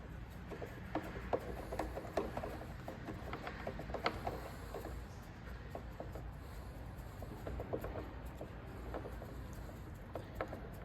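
Cover bolts come out of a Hilti DSH 900-X concrete saw, giving close, continuous ratcheting clicks and small metallic taps from a hand tool at a steady moderate level, with no talking.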